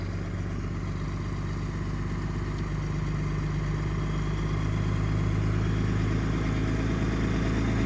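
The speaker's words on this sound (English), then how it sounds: "it does have 3-cylinder idle" Cold-started truck engine running at high idle around 1200 RPM in 16-degree weather, apparently dropping to three-cylinder idle; a steady, even, close mechanical drone with light clatter and no speech.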